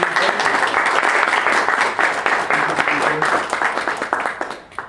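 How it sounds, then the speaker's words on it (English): An audience applauds a lecturer after a philosophy talk on the metaphysics of color, a dense burst of clapping that rises loud and then thins out toward the end, with some voices mixed in. "We should give Dr. Pyne a round of applause for being"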